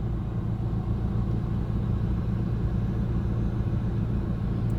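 Road traffic on the C1 rumbles low and steady, an engine drone from a vehicle that seems to be riding along in it, close and constant throughout with no speech.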